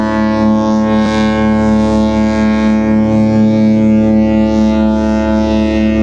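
A Disney cruise ship's musical horn plays a loud, sustained melody of layered harmonic blasts, steady and close throughout with no talking.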